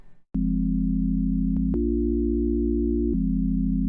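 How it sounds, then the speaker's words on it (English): Pure, smooth sine-wave tones hold a sustained chord, shifting abruptly to a new chord twice with faint clicks at each change. "I could demo this with like just sine waves as well"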